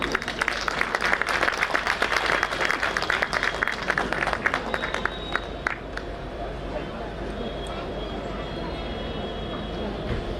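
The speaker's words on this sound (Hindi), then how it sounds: "Again, I need louder applause from the audience." An audience at a Christmas gathering applauds, a dense burst of clapping for about five seconds that then gives way to a murmur of room noise and babble.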